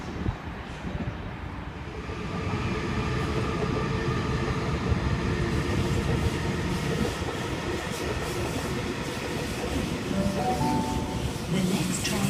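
A Sydney Trains service passes through Auburn station platform at night, a loud continuous rumble and rattle of wheels and carriages holding steady for over ten seconds, with a brief horn-like tone near the end.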